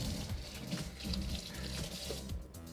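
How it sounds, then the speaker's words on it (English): Running tap water streams steadily over an iPhone 14 Pro Max being rinsed at a sink, a close, continuous splashing wash with small fluctuations throughout. "We're gonna wash it off in the water."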